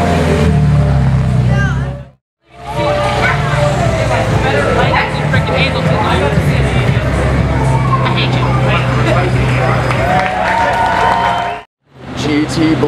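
A Ferrari SF90 Stradale Assetto Fiorano supercar drives past with a loud, sustained engine roar that swells and fades between brief gaps, mixed with crowd noise and voices close by.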